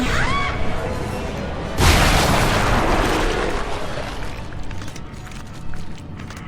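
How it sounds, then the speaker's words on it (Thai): A deep, booming blast from the video game Dead Space 2 hits suddenly and rumbles away over several seconds. "โดน โดนแรงระเบิดของมัน"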